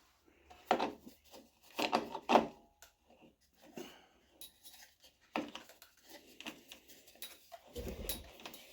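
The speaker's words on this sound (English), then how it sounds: "And then you get the trimmer head and spin this on." Weed eater trimmer head spun by hand onto the shaft, giving close, intermittent scraping and rubbing bursts of plastic against plastic, with a louder thump near the end.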